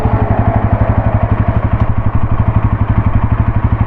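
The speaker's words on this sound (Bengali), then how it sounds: "এই স্টার্ট দিয়ে দিলাম," A Bajaj Pulsar NS 200 motorcycle engine idles close by after starting, a loud, steady, rapid thumping pulse with an even mechanical rhythm throughout.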